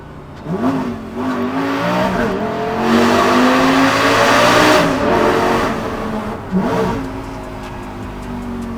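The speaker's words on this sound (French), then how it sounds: "J'ai écouté quand il rétrograde le bruit du Gamos." A Lamborghini Gallardo Superleggera engine revs loud and close, its pitch climbing and dropping through several sharp downshifts, with throttle blips and a brief screech of tires between rising wails.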